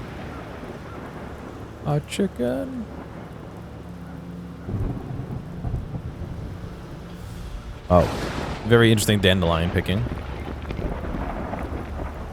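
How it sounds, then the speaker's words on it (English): Thunderstorm in the fantasy game The Black Grimoire: Cursebreaker, with steady rain and low rumbling thunder swelling twice, under someone talking over the game. "This is no natural storm."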